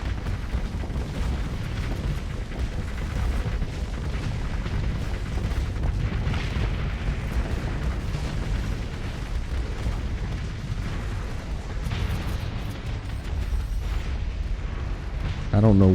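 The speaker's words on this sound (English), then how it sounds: "I don't know where those missiles were being shot." Missile fire and explosions in the space combat game Star Sector, a long, loud, rumbling wash of booms and blasts with a voice speaking over parts of it.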